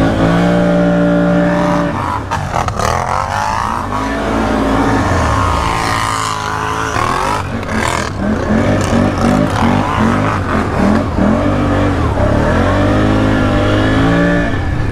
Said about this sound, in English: Time to do some donuts.